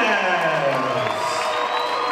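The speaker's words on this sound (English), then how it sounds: "Big round of applause also for Troy, New York's Sugar Ray Velez." Boxing crowd at a fight night cheering and applauding after the decision is announced, a dense, steady roar of whoops and shouts throughout.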